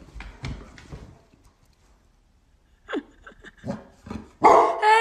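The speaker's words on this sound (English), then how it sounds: "Hey! No barking!" A pet dog barks several times at close range, short loud bursts separated by pauses, with a person talking before the barks.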